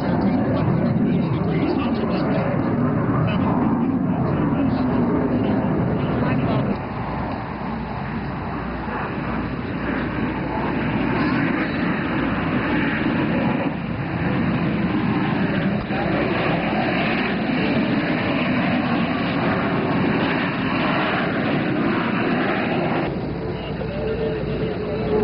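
A Blue Angels jet rolls on takeoff and climbs vertically, its engine roar a loud continuous broad rush that swells and holds for a long stretch, with a narrator talking over it.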